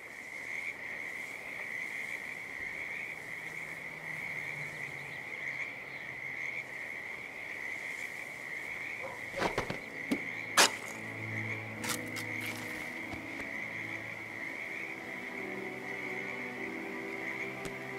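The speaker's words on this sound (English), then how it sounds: "a species of frog that has been declared endangered" A frog croaks in a Hitman 2 game scene by a creek, a steady high chorus running throughout with a few sharp clicks and low croaks in the second half.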